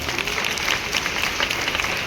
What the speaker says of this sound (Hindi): मैं चाहूंगा परमपिता परमेश्वर के लिए जोरदार तालियां।